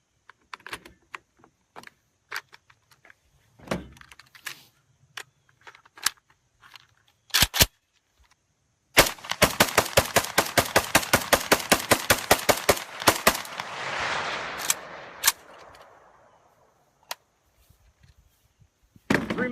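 A rifle fires a Pro Mag magazine dry in one rapid burst, loud sharp reports in fast succession for several seconds. Scattered clicks and handling noises of metal come before it, and a hiss of smoke or gas trails after.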